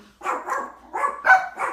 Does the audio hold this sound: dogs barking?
yes